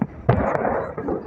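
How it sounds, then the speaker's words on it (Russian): Fireworks salute bursting over Sparrow Hills in Moscow for a Victory Day display, a dense rumble of overlapping booms with a few sharper near cracks rising out of a continuous distant roar. "Вон салют."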